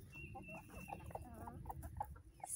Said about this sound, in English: Come on now, chickens.